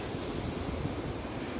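Pacific Ocean surf on a foggy coast near the Oregon dunes makes a steady broadband roar of breaking waves, distant and even, mixed with wind buffeting the microphone, and no voices.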